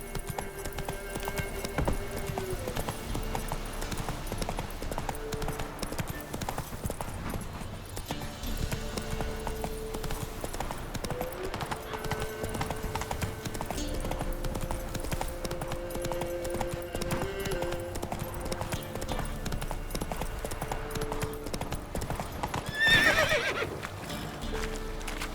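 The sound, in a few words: Roach the horse galloping in the video game The Witcher 3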